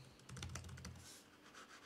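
Keys being tapped on an Alienware M16 laptop keyboard, arrow keys pressed in a quick burst of soft clicks, close and fairly quiet, trailing off into light scattered taps.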